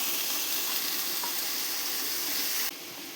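Eggplant pieces fry in a pan with onion and tomato, giving a loud, constant sizzle close by that drops a little in level near the end, with no voices.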